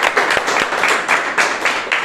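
A church congregation claps together in a steady rhythm, about four loud, close claps per second blending into general applause, with no speech over it.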